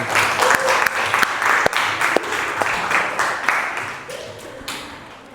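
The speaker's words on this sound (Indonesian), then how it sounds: "Kita beri aplaus untuk kelompok 2" A classroom group claps loudly and continuously for student group 2 in an Islamic ethics lesson. The dense applause holds steady for several seconds, with occasional sharp individual claps, then gradually thins toward the end.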